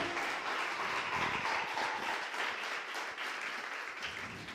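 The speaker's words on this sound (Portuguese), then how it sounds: "Você pode aplaudir ao Senhor" A church congregation applauds during a service, a soft, distant, continuous patter of many hands that fades slightly toward the end.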